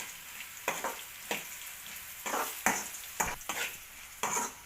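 Lentils and green chillies frying slowly in a tempering pan, a low continuous sizzle broken by repeated scraping stirs at an uneven rhythm, close and fairly quiet.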